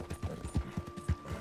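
Horse hooves clip-clopping in the Red Dead Redemption 2 video game: a steady walking rhythm of soft hoof thuds, about two beats per half second, under a faint tonal background hum.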